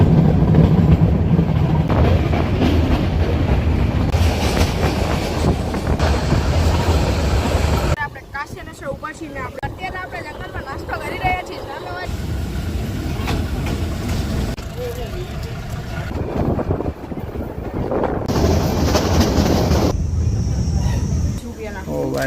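A passenger train on the Veraval to Junagadh line rumbles steadily along the track, heard from inside the coach with a loud continuous roar that drops and swells, while people talk nearby.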